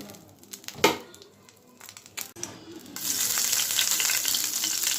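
Oil frying in a pan for a hilsa fish bhuna with tomato, starting with a few scattered clinks and rustles before a loud, steady sizzle takes over and holds to the end.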